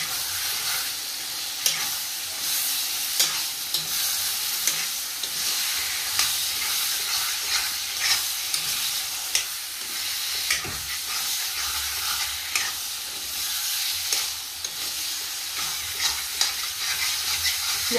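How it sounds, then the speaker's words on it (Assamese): Local chicken meat frying with spices in a pan, a dense steady sizzle broken by repeated scraping stirs of a spoon, close and continuous with no talking. "এইটো লোকেল মুৰ্গী মাংস এতিয়া দিয়া গ'ল ইয়াতে"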